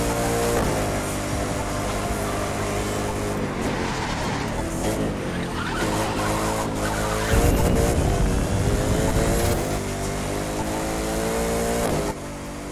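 A McLaren P1 in the racing game The Crew 2, its engine droning loud and steady while the tires squeal and skid through corners, with a heavier rumble midway.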